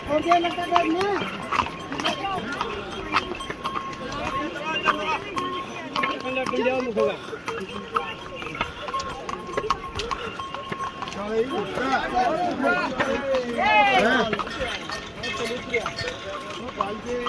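Horse hooves clop along the Yamunotri mountain trek trail amid a busy crowd of voices, the footfalls partly buried under steady chatter.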